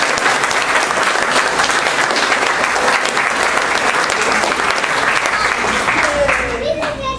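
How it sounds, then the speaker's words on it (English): A room of reef-aquarium club members bursts into loud, sustained applause that rolls on for several seconds before trailing off, with a few voices mixed in. "Let's go ahead and give them a round of applause."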